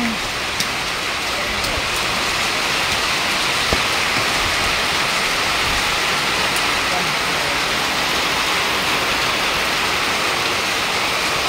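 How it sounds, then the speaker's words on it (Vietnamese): Steady, dense rain driven by strong wind at a fishing pond in Binh Chanh, a continuous close wash of drops and gusts that never lets up. "mưa như chút nước anh em mưa mà gió mạnh gió lớn đấy"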